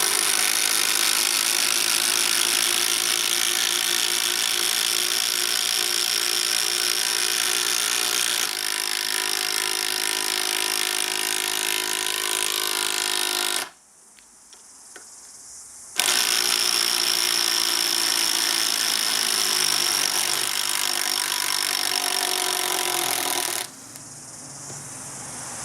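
Two Makita 12V impact drivers, the brushed TD110D and the brushless TD111D, run one after the other at full speed, a loud sustained high-pitched rattling whine broken by a brief silent gap between runs.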